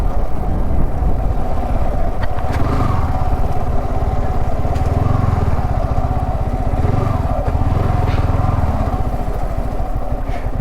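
Steady, loud engine drone of a motor vehicle being ridden on a road toward a hill temple, continuous with rattling and wind noise throughout.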